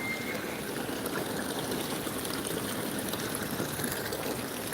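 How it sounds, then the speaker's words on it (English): Water trickles and splashes continuously at a soft, steady level from a small water fountain bowl at a plant nursery. "This is like a water fountain bowl."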